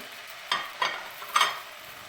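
Potatoes and peppers tipped into hot oil in a soup pot, three quick bursts of sizzling and clattering as the pieces land and are stirred, each fading briefly.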